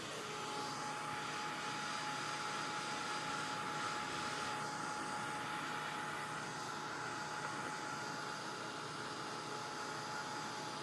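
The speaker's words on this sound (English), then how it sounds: "I'm going to get the heat tool and try this." A handheld heat tool blows hot air to dry paint on a wooden craft house frame, a steady whooshing whir with a constant tone, close and continuous with no talk.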